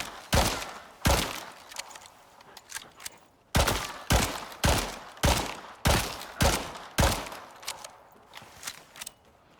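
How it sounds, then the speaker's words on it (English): Gunshots fired at a wood fortification wall in the video game Icarus, a series of loud, sharp cracks repeating at a fairly regular pace with brief gaps between bursts. "Now let's go ahead and fire some shots at the wood fortification wall."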